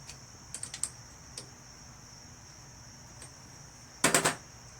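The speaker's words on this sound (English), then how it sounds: "Using these torque key wrenches to first get it in there well." A torque key wrench works bolts on the starter of a Craftsman LT2000 lawn tractor, giving sparse faint metallic clicks and a short burst of rapid ratcheting clatter near the end, close by with no talk.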